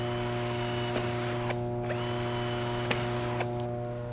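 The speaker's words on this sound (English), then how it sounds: "I'm going to set it to drill." A cordless 20V Li-ion power drill runs steadily in drill mode, its motor giving a constant electric whine. A few faint clicks and ticks are scattered through the run, with no talking.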